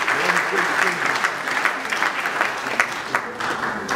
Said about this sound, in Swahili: mpigeni makofi tena mama.